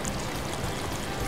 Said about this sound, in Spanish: ¡Y miren la cascada!